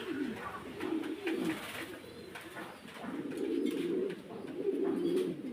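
Pigeons coo in soft, repeated low rolling calls, several birds overlapping steadily nearby with no talking.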